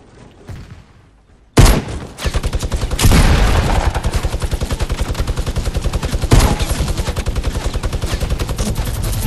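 Rapid, sustained minigun fire in the Fortnite video game, beginning after a brief quiet moment and continuing as a loud, steady stream of shots, with one sharper burst partway through.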